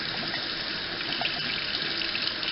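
Steady running tap water pours into a sink while makeup brushes are washed with a bar of Ivory soap, a continuous close splashing stream with no talking.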